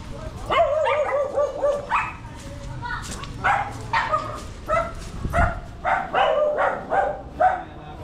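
Several dogs bark and yip in repeated bursts at close range, with people talking now and then underneath.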